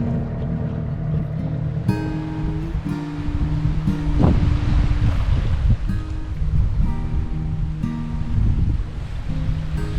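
Waves wash onto a beach close to an anchored boat, a steady rolling surf with a constant tonal hum laid over it. The sound carries on without a break and no one speaks.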